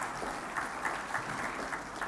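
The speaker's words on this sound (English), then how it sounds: "could everybody give Evelyn a nice round of applause?" Applause at a Good Scout Award luncheon from an audience of about 500 people, a steady, full round of clapping that holds at an even level with no break.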